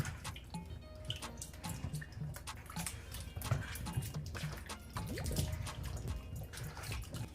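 Running water from a tap splashes and drips steadily as cassava roots are washed in a kitchen sink, close and continuous with small clinks and rinsing bursts throughout.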